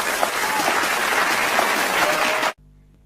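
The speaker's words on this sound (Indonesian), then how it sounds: "Mari kita berikan aplaus kepada kelompok 2." Applause for a student group in a classroom teaching session, a steady wash of clapping from many hands that holds evenly for about two and a half seconds before cutting off abruptly.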